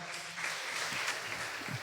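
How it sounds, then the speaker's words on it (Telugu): A church congregation at a Sunday service clapping in praise, a continuous dense patter of many hands at moderate volume, with faint voices mixed in toward the end. "చప్పట్లో కూడా దేవుని స్తుతిద్దామా?"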